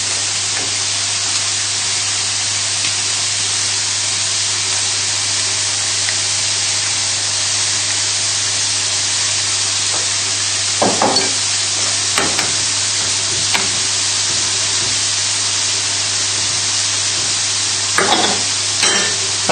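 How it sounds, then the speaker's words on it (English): Tagliatelle goes into a pan of boiling water on a stovetop: a loud, steady bubbling hiss fills the whole stretch, with a few brief clattering bursts near the end. "Hopefully you've got your pan of boiling water ready,"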